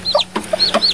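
Newly hatched Silkie chicks peep close by at night. A quick run of three or four high, downward-sliding chirps and a soft thump come within about a second.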